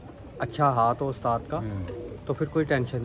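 Pigeons coo in a loft, their soft calls heard close and mixed with someone talking in Hindi over them.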